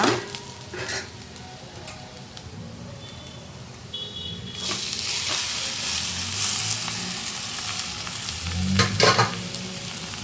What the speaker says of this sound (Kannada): ಈರುಳ್ಳಿ ಎಲ್ಲ ಬ್ರೌನ್ ಕಲರ್ ಬಂದಿದೆ ಸೊಪ್ಪು ಹಾಕೊಳ್ಳೋಣ ಇವಾಗ